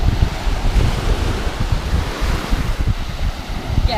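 Surf rolling in at Rutherford Beach, Louisiana, a loud, continuous wash of waves mixed with heavy wind buffeting the microphone, no speech.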